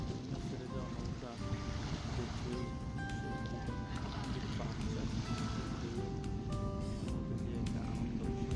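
A boat pulls away on the Buriganga river, with a constant low engine rumble and wind buffeting mixed with distant river noise and faint horn tones.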